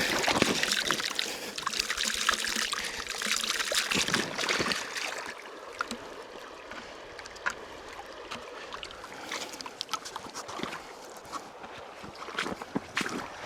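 Water sloshes and swirls in a gold pan as heavy black sand is worked, loud close splashing that tapers into softer trickles and intermittent swishes.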